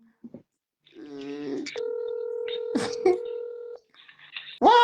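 Phone keypad tones beep as a number is dialed, a short run of distinct tones followed by a longer held dual tone, clear and close in an otherwise quiet room.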